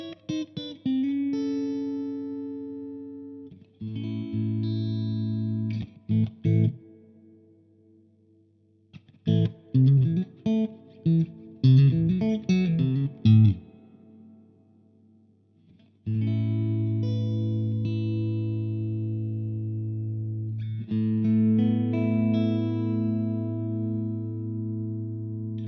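Electric guitar through a Victory V140 Super Duchess amp with reverb plays sustained chords and a busier picked passage, each phrase ringing out into a reverb tail before stopping, clean and moderately loud with no talk.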